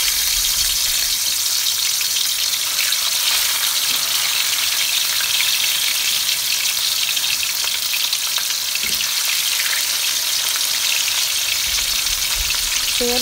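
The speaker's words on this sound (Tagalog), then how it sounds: "iprito na natin itong ating daing na bangus sa kumukulong mantika" Salted dried milkfish (daing na bangus) frying in a pan of boiling oil, a steady dense crackling sizzle that stays loud and even throughout with no talking.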